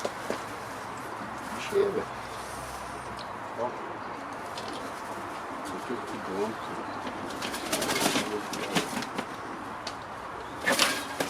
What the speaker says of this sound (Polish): dobrze odchowane gołębie